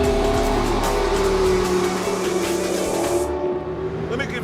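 McLaren P1 hybrid supercar accelerating, a loud close engine roar with a steady tonal drone that holds for several seconds before easing off into quieter running.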